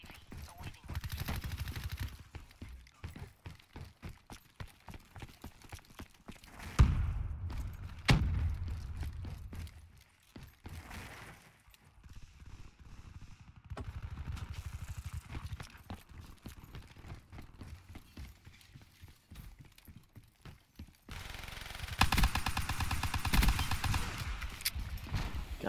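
Gunfire in the Call of Duty Black Ops 3 video game, bursts of rapid shots and scattered single cracks mixed with footsteps and game effects, with a player talking over the action.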